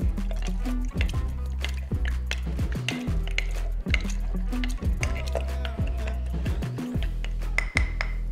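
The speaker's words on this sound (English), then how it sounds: "Now muddle the ingredients." A muddler works blackberries, fresh lime juice and simple syrup in a glass for a margarita. Repeated rhythmic squishing thumps come with light glassy clinks, close and steady, and there is no talking.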